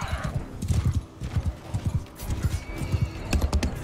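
Horse hooves galloping in the Mount & Blade 2: Bannerlord video game, a steady run of repeated clip-clop beats close by, with battle noise behind and a brief whinny.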